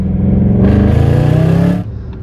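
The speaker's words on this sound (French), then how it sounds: "Un joli son moteur." Audi A8 engine revs hard in a loud, close burst that climbs and holds for about a second, then drops back to a steady idle.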